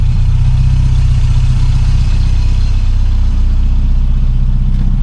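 Tuned Mini car engine idling warm, a loud, steady low rumble with an even mechanical throb, heard close and alone.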